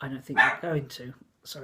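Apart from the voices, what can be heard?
dog barking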